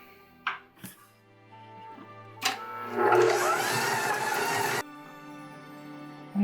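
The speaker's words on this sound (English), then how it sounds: "We're going to add half a cup of unsalted butter and 4 ounces of cream cheese to our stand mixer here and get those nice and softened up together" Stand mixer beating half a cup of unsalted butter with cream cheese: a few clunks, then a steady loud motor whir for about two seconds that cuts off abruptly, followed by a low hum.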